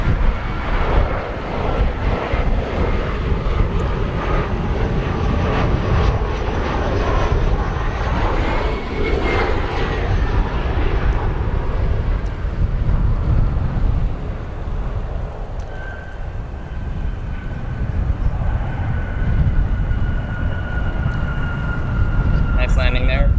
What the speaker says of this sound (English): We have an Embraer 175 operated by United Express here, landing Colorado Springs.